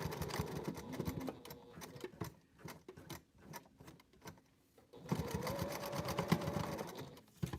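A sewing machine runs in short bursts and steady stretches, sewing a seam on a fabric packing cube, with brief pauses between runs; close and fairly quiet, with no talk.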